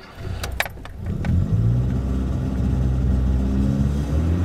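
A car engine idles and revs while warming up, starting with a few sharp clicks and jangling keys, then settling into a loud, steady low rumble close by.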